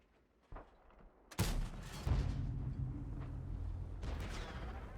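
A single booming tank cannon shot from the Object 703 II in World of Tanks, fired loud and close. A sharp crack is followed by a rumbling tail that hangs on for several seconds, and no one speaks.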